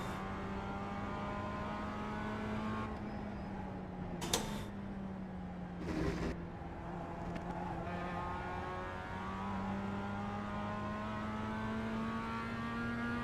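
A Mazda MX-5 race car engine in a racing video game holds a steady, even drone throughout, with a couple of brief, sharper mechanical knocks midway.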